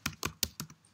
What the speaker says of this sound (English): So I type which node.